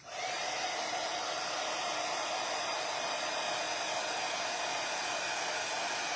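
Steady, unbroken whoosh of a heat tool, like a hair dryer, blowing over metallic foil on a mannequin bust, loud and close for the whole stretch with no talking.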